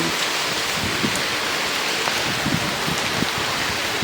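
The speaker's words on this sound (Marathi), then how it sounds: "खूप जोराचा पाऊस चालू आहे." Heavy rain pouring down in a steady, loud, dense hiss that fills the whole stretch without letting up, with only a few stronger drops standing out and no voices.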